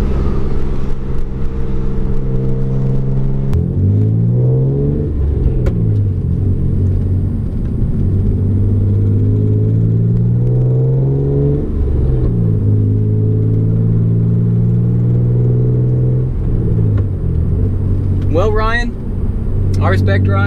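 A Hyundai Genesis Coupe BK2 with a short shifter and new bushings hums along, its engine dropping and rising in pitch through repeated manual shifts that are refused at second gear, under an in-car voice.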